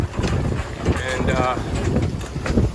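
Strong wind buffets a boat at a city marina, a rough, gusty roar across the microphone with some indistinct voice-like sounds mixed in.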